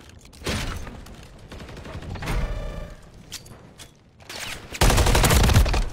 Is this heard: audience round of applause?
no